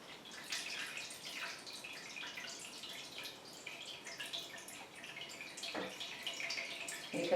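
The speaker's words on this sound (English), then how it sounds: "You can see all the wax dripping off." Hot wax drips off a vintage baby dress lifted from a dipping vat, giving soft, irregular patters and drips that continue steadily with no voices.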